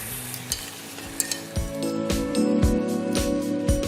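Lardons, oxtail and stewing beef sizzle loudly in a hot pan, a steady frying hiss broken by repeated sharp clinks and stirring knocks of a utensil against the pan.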